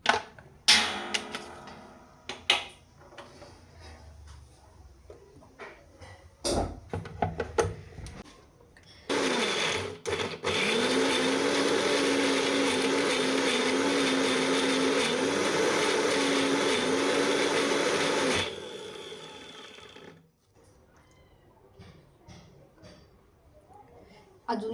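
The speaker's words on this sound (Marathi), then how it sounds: "स्वतः आपण हे लगेच मिक्सरला लावून घेऊया." A kitchen mixer grinder blends egg curry masala for a spicy dhaba-style egg curry. It runs loudly and steadily with a whirring drone for about ten seconds, with scattered handling clatter and talk before and after.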